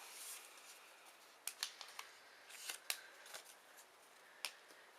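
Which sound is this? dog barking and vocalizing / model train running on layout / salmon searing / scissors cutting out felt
scissors cutting out felt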